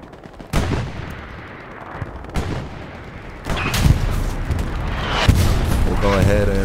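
Anti-tank gun firing at a Panther tank in the Hell Let Loose game. Sharp booming shots and gunfire crack at intervals over a steady battlefield rumble, with heavier sustained firing in the latter half and voices talking underneath.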